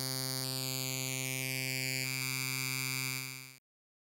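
Synth tone processed through the Absynth 5 Supercomb comb filter in raw mode: a steady, buzzy, harmonically rich drone with a strongly colored, stepping overtone pattern, holding loud and alone before cutting off sharply.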